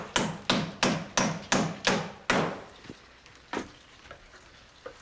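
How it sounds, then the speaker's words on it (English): A hammer drives nails by hand into wooden clapboard trim on a house, six sharp, evenly spaced blows ringing out close and loud, followed by a few scattered lighter knocks and taps. "And we're just hand nailing it,"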